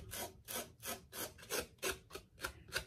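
Quiet rhythmic scratchy rasping, about ten strokes back and forth, like a hand rubbing rough beard stubble up close.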